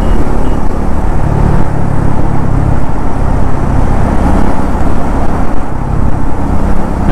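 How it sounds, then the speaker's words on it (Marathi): A Royal Enfield Himalayan 450 or Triumph Scrambler 400X motorcycle cruises in fifth gear at about 60 km/h, a loud, continuous engine drone mixed with heavy wind rush and no break. "पाचव्या गिअरवर गाडी आहे, बघू शकता 60च्या स्पीडला."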